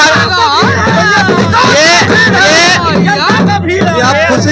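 Large outdoor crowd at a Jan Suraaj political rally in Bihar, a loud dense babble of many voices close by, with individual talkers rising out of the continuous hubbub.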